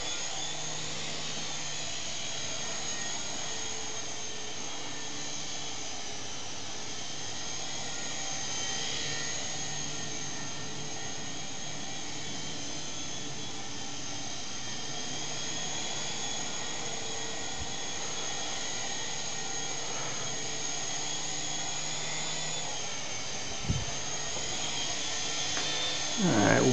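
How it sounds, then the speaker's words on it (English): A small remote-control helicopter, a Syma S108G Cobra, gives a high, steady whine as it hovers continuously nearby, with no talking, ending in a brief click. "Nice little chopper."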